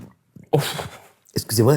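A single short sneeze bursts out after a brief gasp, close and clear, then someone speaks in French right after.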